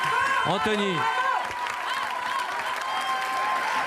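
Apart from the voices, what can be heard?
TV studio audience applauding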